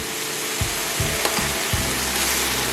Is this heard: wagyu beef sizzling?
yes